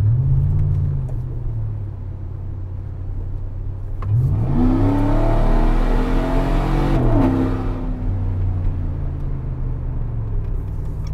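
A car accelerates hard on a road during a traction control test, the engine revving up loudly with rising gear pitch, pausing briefly at a shift, then pulling again before easing off.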